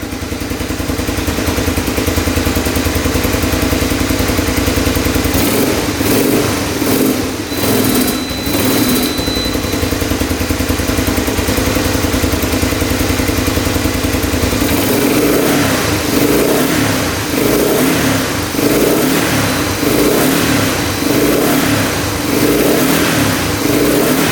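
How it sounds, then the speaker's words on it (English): A Honda three-wheeler engine runs loud and close for the whole stretch, holding a buzzy idle and then revving up and down in repeated bursts before settling again. "Of course, it's idling perfectly too."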